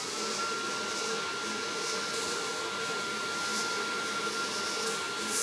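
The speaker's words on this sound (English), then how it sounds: "we're going to go with medium to low heat on the blow dryer" A blow dryer runs on medium to low heat while a woman's hair is dried with a brush, giving a steady, fairly loud broadband whoosh with a faint high whine that holds unchanged throughout.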